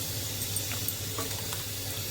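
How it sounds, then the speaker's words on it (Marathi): Water pours steadily into a cooking pot holding ground spice paste, making a continuous close rushing splash with no talking. "आणि पाणी टाकले"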